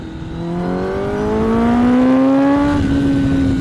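A Kawasaki Ninja ZX10R sportbike engine is revved from about 5,000 RPM toward full throttle, its loud, close whine climbing steadily in pitch over several seconds and then settling at a high, sustained drone.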